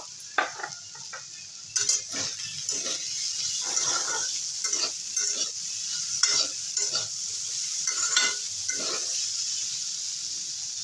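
Capsicum and green chilli stir-fry on a high gas flame, a steady sizzle with repeated scraping and clinking of a spatula against the pan, close up and without speech.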